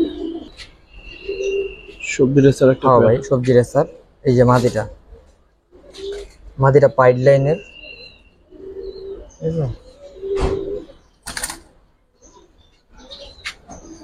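Giribaz racer pigeons coo in low, throaty bursts between stretches of someone talking, with a few faint chirps in the background.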